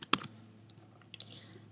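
A password is typed on a computer keyboard: a few light, close key clicks spaced irregularly over under two seconds, quiet and alone.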